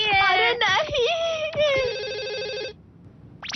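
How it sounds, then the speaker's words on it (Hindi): A telephone rings in a cartoon, loud trilling electronic ring bursts that warble in pitch, repeating several times before stopping, with a brief cartoon sound starting just after. "हाँ, फोन आया है।"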